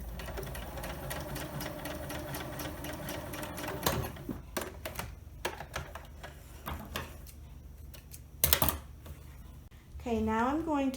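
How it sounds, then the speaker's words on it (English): A home sewing machine stitches elastic for a DIY skirt waistband, with a rapid mechanical ticking run and a few brief pauses and clacks. A voice speaks near the end. "And now I'm going to sew it to keep it together."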